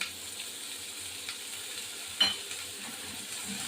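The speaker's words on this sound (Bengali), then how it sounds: "বড়িটা এর মধ্যে ভাজতে হবে" Small lentil dumplings (bori) frying in oil in a pan, a soft continuous sizzle with light stirring and one brief louder crackle partway through.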